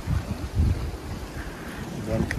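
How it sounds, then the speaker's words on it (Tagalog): Strong wind buffets a microphone outdoors in snowy, stormy weather near Bonn, making a rough, gusting roar with murmuring voices underneath. "Malakas ang hangin, tas may snow."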